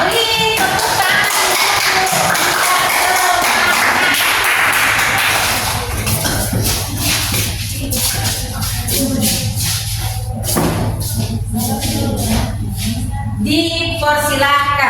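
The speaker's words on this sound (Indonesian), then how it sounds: "Ayo, beri tepuk tangan." A classroom audience applauds a student group about to present. Loud, dense rhythmic clapping runs through most of the stretch, mixed with voices.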